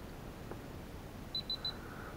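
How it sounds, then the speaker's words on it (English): A Runcam 3 action camera powers on with three short, high electronic beeps in quick succession over a quiet room hiss, followed by a faint lingering tone. "what I'm going to do is power the camera on"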